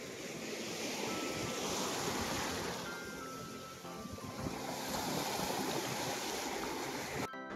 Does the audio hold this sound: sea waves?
yes